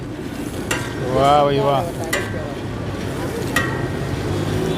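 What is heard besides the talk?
peanuts roasting in salt over a fire, stirred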